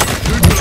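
Close, loud gunfire from Call of Duty: Modern Warfare, a dense, short burst of shots layered over game ambience with a faint voice mixed in.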